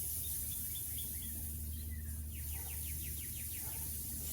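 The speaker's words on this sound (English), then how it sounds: "Sounds like a swarm of cicadas or something." A swarm of cicadas or similar insects buzzes outdoors, a faint steady drone with a rapid run of repeated chirping pulses partway through, with no voices.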